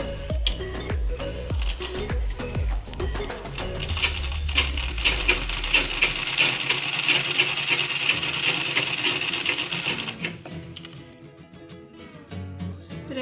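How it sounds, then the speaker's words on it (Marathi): Sewing machine stitching around a fabric square for a blouse latkan, a fast steady mechanical chatter of rapid needle strokes at close range that runs for about ten seconds, then slows and stops with a few handling clicks. "आणि ही स्क्वेअर अशी मी शिलाई मारून घेते"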